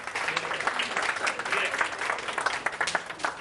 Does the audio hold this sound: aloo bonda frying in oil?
no